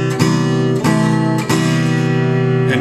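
An acoustic-toned guitar strums a repeating chord progression, with the moving note dropped onto the high second string. Steady, close, full strums change chord roughly every 0.6 seconds, alone with no talk.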